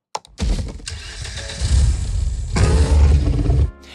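Car engine for a car advertisement, layered with the growl of a real animal: a short start-up burst, then a sustained throaty roar that swells twice, louder the second time, before stopping sharply. No speech.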